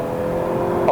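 Engine of a W206 Mercedes-Benz C300 AMG Line held at high revs in manual mode during a test drive, a steady close whirring drone that rises slightly at the very end, with no talking.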